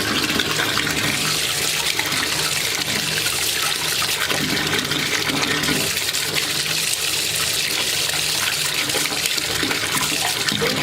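Water pours steadily from a tap, a constant splashing rush that stays loud and unbroken throughout, with no voices.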